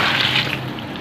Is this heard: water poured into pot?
yes